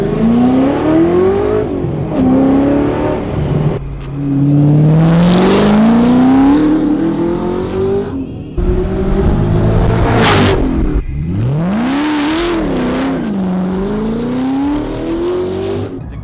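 A Ford GT fitted with a titanium exhaust accelerates hard through several rising gear pulls, with loud, close engine wails, brief gaps at each shift and a sharp whoosh near the middle.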